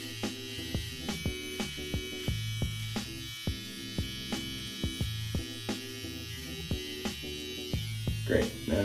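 Electric beard trimmer buzzing steadily up close while a beard line is trimmed, its hum pulsing rhythmically as the blades pass over the hair, with brief talk over it.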